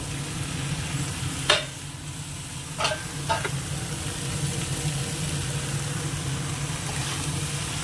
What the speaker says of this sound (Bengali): হালকা ভাজা হয়ে গেছে